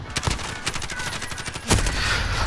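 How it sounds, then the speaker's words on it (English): Rapid close gunfire in Call of Duty: Modern Warfare, repeated sharp shots in quick bursts followed by a heavier burst and rumbling noise. "he shot me through the smoke"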